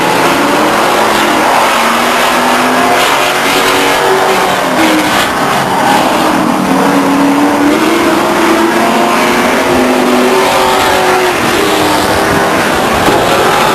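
Super trucks racing at Stockton 99 Speedway in 1999, engines droning loud and steady for the whole stretch, with shifting pitch as the pack circles the oval.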